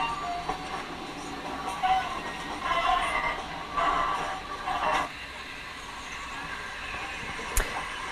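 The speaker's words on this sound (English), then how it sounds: "Our train had to pull over for this other one to pass." A train rumbling past nearby in North Wales near Mount Snowdon while another train waits, a steady rolling roar with rhythmic clacks and a sharp metallic bang toward the end.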